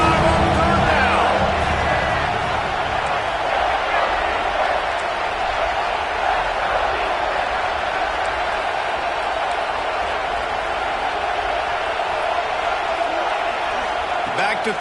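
A large Ohio State Buckeyes stadium crowd roars steadily on third down at a college football game, heard as a loud, sustained wash of cheering with a broadcast commentator talking over it.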